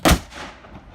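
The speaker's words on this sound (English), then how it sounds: "Well, that was a fun cannon firing." A ceremonial cannon at Fort Mackinac on Mackinac Island fires a single loud, booming report, followed by a long fading echo and rumble across the grounds.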